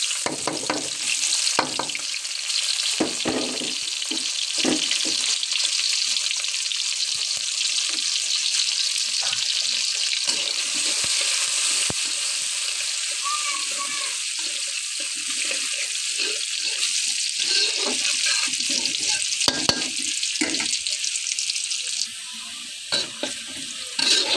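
Onion, cumin and mustard seeds fry in hot oil with a steady, bright hiss and sizzle, broken by occasional stirring clatters and scrapes, close and continuous with no talking.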